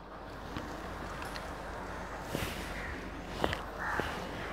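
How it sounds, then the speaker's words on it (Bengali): An outdoor breeze gives a steady, soft rushing wind noise, broken by a few faint knocks and small bumps nearby. "কি সুন্দর হাওয়া দিচ্ছে গো"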